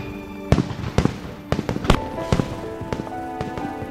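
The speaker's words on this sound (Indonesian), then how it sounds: "Soyeon mengajak Nando melihat kembang api." Fireworks burst one after another in sharp, booming cracks about every half second, with a crackling hiss and rumble between the blasts.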